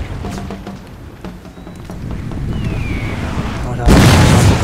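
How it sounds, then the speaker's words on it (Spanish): Artillery firing from a palisade in Empire Total War, scattered booms and crackling musket-like reports over battle noise, ending in one loud close blast. "Nos sigue disparando la artillería de la empalizada."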